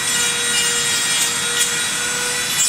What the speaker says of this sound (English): Go around the edges out here, just rough it up so your epoxy sculpt is sticky.